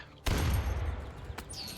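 A cannon blast in the strategy video game Armello lands as a loud, heavy boom with a sustained low rumble, followed by a sharper crack and a faint high whistling tone near the end.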